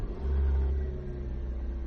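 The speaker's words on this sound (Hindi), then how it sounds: "नवजोत ने हंसते हुए गाड़ी स्टार्ट की" A car engine turns over and settles into a steady low rumble, loud and close, with a brief surge at the start and no voices.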